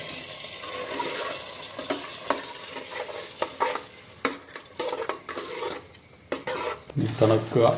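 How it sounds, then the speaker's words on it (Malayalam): Pachoru, a rice porridge, is stirred in a pot, with close, uneven scraping and sloshing strokes and soft knocks against the pot that come in irregular bursts, with no talk. "പാച്ചോറ് റെഡിയായി കേട്ടോ. എന്നിട്ട് ഇളക്കുക."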